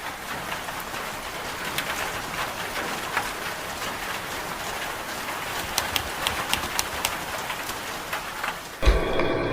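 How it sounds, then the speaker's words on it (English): Steady rain falls and patters on surfaces outdoors near beehives, a dense continuous hiss with scattered close drips and taps, ending in a sudden louder thump. "And the rain came."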